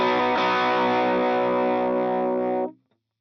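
An electric guitar chord run through a medium-gain overdrive set around 40 to 45 percent, struck once and ringing thick and gritty at steady volume for nearly three seconds before stopping abruptly.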